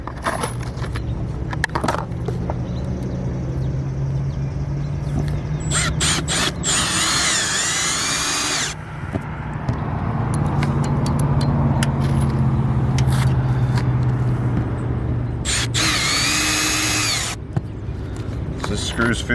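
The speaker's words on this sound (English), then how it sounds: "Now we're just gonna start screwing." A power driver sinks screws into an RV roof vent in several whirring bursts with rising pitch, close and loud over steady outdoor rumble, with someone talking between the bursts.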